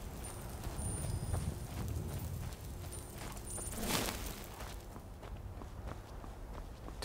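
Horse hooves run in Skyrim, a modded fantasy role-playing game, a steady patter of footfalls with a louder burst partway through, heard amid continuous game ambience.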